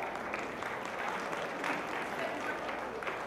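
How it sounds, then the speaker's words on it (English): An audience applauds steadily at a talk by an educator, a dense even wash of many hands clapping close and loud for the full length, with no speech over it. "give yourselves a round of applause"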